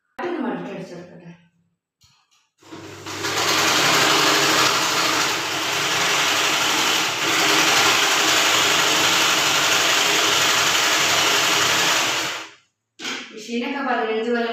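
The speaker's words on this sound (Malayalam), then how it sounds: "അപ്പോൾ അത് അടിച്ചാൻ വേണ്ടി മെഷീനിൽ വെച്ചാണ് അങ്ങനെ അടിച്ചാൻ പോവുകയാണ്." A fifteen-year-old sewing machine stitches folded cloth with a loud, steady, whirring run lasting about ten seconds. A voice speaks briefly before and after the stitching.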